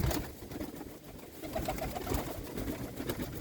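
Pigeons coo softly and repeatedly in a loft aviary against a steady, rustling indoor background, with low murmuring calls running throughout.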